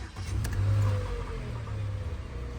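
A 2010 Mercedes A-Class petrol engine catches and settles into a steady idle, a close, low mechanical hum with a brief swell at start-up before evening out.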